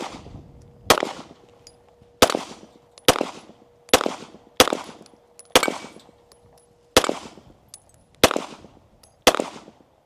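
Firearms fire at a shooting range in a series of about eleven sharp, loud gunshots, spaced roughly a second apart, each one close and followed by a short ringing decay.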